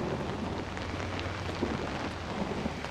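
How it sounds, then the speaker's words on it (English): Steady rain in the horror game Outlast, a dense hiss of drops with low rumbling thunder underneath, continuous and fairly loud across the whole stretch with no voices. "Ah, great. Ah, it's raining. Getting all wet."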